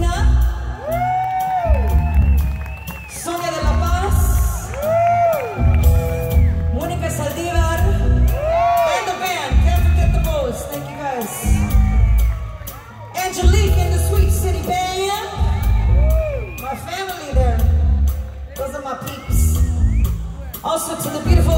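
A live concert crowd cheers and whoops with repeated rising and falling shouts and yells, loud and close, in waves throughout with brief dips between them.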